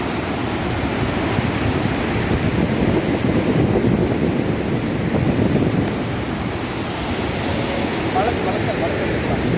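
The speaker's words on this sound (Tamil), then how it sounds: "எப்படி வலிஞ்சு ஓடுது பாருங்க" Stream water rushing along a riverbank near Athirappilly, a steady, loud broadband wash of flowing water that holds evenly throughout, with no voices over it.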